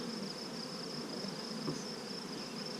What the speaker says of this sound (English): tiny bees. There's a bee.